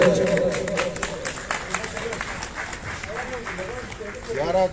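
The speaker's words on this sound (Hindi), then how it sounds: "पूरे पंचाल से तालियों की गूंज होनी चाहिए" Applause and crowd noise from an audience at a 91 News Media Group anniversary event in Pakistan, steady clapping throughout with voices in the hall mixed in.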